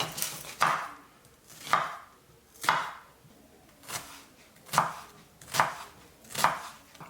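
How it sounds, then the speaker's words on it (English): An onion being chopped small on a cutting board, seven or so evenly spaced knife thumps, close and clear with quiet gaps between. "So after that, I get an onion. You want to chop that up small as well."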